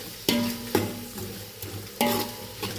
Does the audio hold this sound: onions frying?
yes